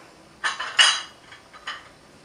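Teacups set out on a counter for mocha mousse, giving a few light ceramic clinks and knocks in quick succession, close and short, with no one speaking.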